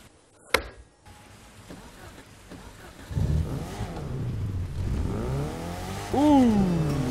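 Revving engine of an upgraded Brabus car in a video game, starting quietly and building into a sustained, loud mid-pitched roar that climbs in pitch toward the end as the car speeds off.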